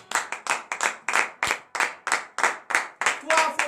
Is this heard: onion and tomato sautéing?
no